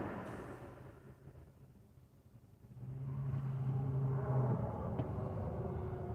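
A car driving on the road, its engine rumble steady at first, then rising and swelling as it accelerates with a low hum, close and continuous with no talking.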